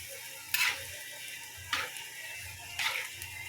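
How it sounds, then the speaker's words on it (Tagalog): Sugar stirred in a coconut shell while making pili candy, with three separate scraping strokes spaced over a second apart above a low, steady simmering background. "Mikos-mikos na natin guys hanggang maluto guys"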